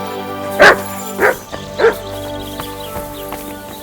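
A dog barks in Kingdom Come: Deliverance 2, giving three short, fairly loud barks spaced about half a second apart, with quieter game ambience running underneath and no speech.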